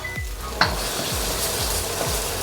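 Tomato paste sautéing for beef mechado, a loud, steady sizzle close up, with a spatula scraping and stirring the pan in regular strokes about every half second; no talking.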